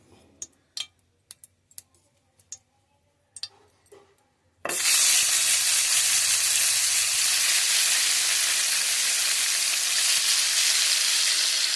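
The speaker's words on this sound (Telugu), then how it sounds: "టమాటా ముక్కలు ఇందులో వేసి వేపేసుకోవాలన్నమాట" Tomato pieces for a tomato pickle land in hot oil after a few sharp clinks and knocks, then a loud, sudden sizzle erupts and holds as a dense, close frying hiss.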